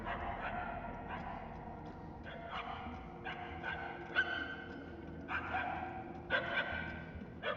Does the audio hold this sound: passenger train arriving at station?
no